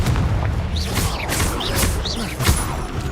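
A Confringo blasting spell explodes in the video game Hogwarts Legacy: several booming blasts with whooshing, swelling bursts, laid over a continuous rumbling game background.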